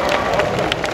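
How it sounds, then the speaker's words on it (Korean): A crowd at a Busan Comic World Halloween stage event claps in brief, dense applause with some crowd murmur mixed in. "다시 한번 박수 보내드릴까요?"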